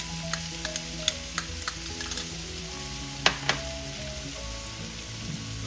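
Chili oil and ground pork sizzle steadily while being stirred for Sichuan-style mapo tofu, with a constant close frying hiss broken by scattered sharp clicks and scrapes of the utensil against the pan.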